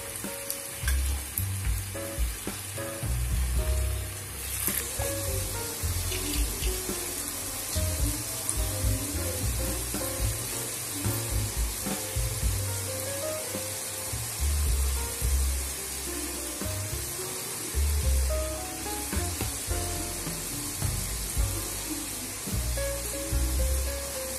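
Potato pieces fry in hot oil for a corn flakes potato popcorn snack, a dense steady sizzle and crackle with occasional stirring clatter, close and continuous, no talking.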